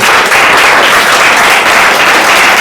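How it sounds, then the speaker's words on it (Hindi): A class of ninth-grade students applauds at a year-end prize distribution, steady dense clapping that fills the whole stretch, loud and close, with no talk over it. "ब्यूटी के लिए भी ताली बजाओ भाई"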